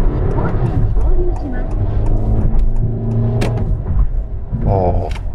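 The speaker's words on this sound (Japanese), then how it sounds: "キックダウンすると結構エンジンの音が割と明らかに出るね。" A Honda Fit 4 engine revs up under kickdown acceleration while cruising an expressway. It is a steady, loud drone with rising harmonic layers inside the cabin, and a voice is briefly heard near the end.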